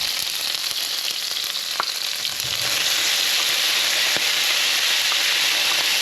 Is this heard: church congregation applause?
no